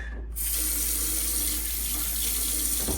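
A faucet runs steadily into a sink, a constant close rushing hiss of water that starts abruptly and continues without a break.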